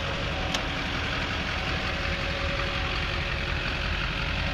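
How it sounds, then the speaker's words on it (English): Duramax diesel engine of a 2006 Hummer H1 Alpha open top idling, a steady, dense rumble with a faint knock throughout and a small click near the start, heard alone without voices. "Duramax diesel."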